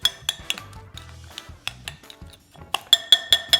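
A utensil stirs a mixture for vegetarian garlic meatballs in a bowl, making close, irregular clinks and scrapes in quick bursts that end in a rhythmic run of sharp taps against the bowl.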